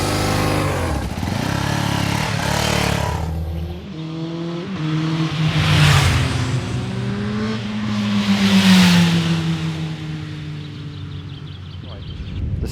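A motorcycle engine on a ride from Rye toward Hastings, running loud and close with a steady throb and two rising revs midway; someone talks briefly over it at the start.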